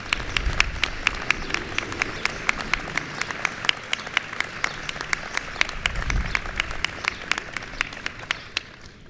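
Audience applause at a Joining Forces anniversary event honouring challenge winners, with the First Lady and Dr. Biden: a steady patter of individual claps runs through the whole stretch, fairly close and even, then thins slightly toward the end.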